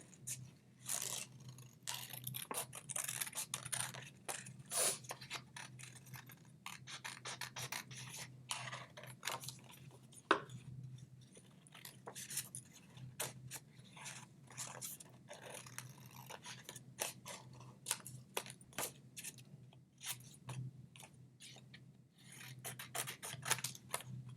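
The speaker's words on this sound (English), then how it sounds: "using my technique where I'm just kind of cutting the single picture out" Scissors snipping around a single paper picture, rapid close-up cuts and rasping paper rubs in irregular bursts, quiet and continuous.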